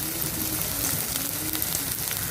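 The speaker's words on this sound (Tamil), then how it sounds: "வெங்காயம் சேர்த்துட்டு நல்லா மிக்ஸ் பண்ணி விட்டுக்கலாம்." Chopped onions and a sprig of curry leaves frying in a pan, a dense, even hiss of sizzling oil, close and steady, with no talking.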